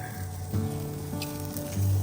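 A ribeye steak sizzles steadily on a grill just after being flipped, a continuous close crackling hiss with brief louder surges and no talk.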